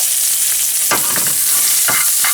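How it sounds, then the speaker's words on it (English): Onion caramelizing in a pan for an Italian-style pork loin dish, giving a steady close sizzle broken by a few brief scraping stirs, with no talking. "caramelizing my onion and my garlic"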